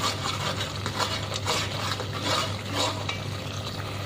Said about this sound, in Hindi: अब भिंडी गोश्त के मसाले को अच्छी तरह भून लेंगे।